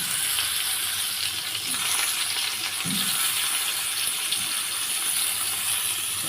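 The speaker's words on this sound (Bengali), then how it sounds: "আলুগুলো মাছের সাইডে একটু তেলে ভালো করে এদিক ওদিক" Rohu fish and potatoes fry in oil in a pan, making a steady, dense sizzle that holds evenly throughout, close by and without speech.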